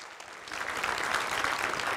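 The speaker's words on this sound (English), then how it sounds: "Great applause, big applause for Björn, our speaker after the lunch break." Audience applause welcoming speaker Björn Fahller after the lunch break at the code::dive 2023 C++ conference, starting soft and swelling into steady dense clapping from a hall crowd.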